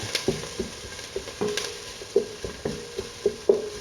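Garlic sizzling in a pan for risotto while being stirred: a steady soft sizzle punctuated by regular clicking taps of a utensil against the pan, close and clear with no talking.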